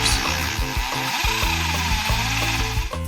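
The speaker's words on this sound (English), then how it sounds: "then we started drilling the holes for the concrete anchors" A power drill bores holes for concrete anchors during a studio soundproof door build, a loud, sustained motor whine that steps up and down in pitch as it bites into the concrete.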